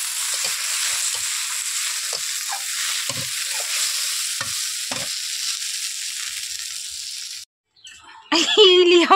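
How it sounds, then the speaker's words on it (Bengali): Egg frying in a pan at a home kitchen, a steady hiss with faint ticks for most of the clip, then a brief pause before a voice starts speaking near the end. "আর হচ্ছে ডিম ভাজা।"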